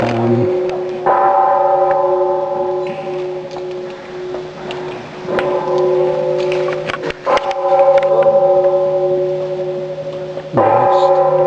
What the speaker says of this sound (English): Here's the gong for dinner.